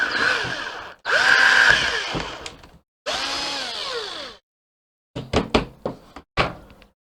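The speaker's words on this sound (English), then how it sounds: "Drill this from the top down." A power drill bores into the plastic case of an Atari 130XE computer indoors, three whining bursts with the pitch sagging under load, followed by a series of sharp knocks and taps, all close and loud with no talking.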